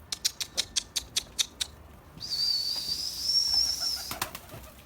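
Pigeons in Hakan's crowded loft make a run of sharp, evenly spaced clicks or wing claps, then a steady higher churring and cooing murmur, ending in a few more close taps.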